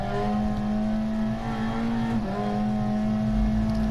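A rally car in DiRT Rally 2.0 runs flat out in sixth gear near the rev limiter on the Annbank Station stage, a loud, sustained, steady engine drone with a slight pitch dip midway and no speech.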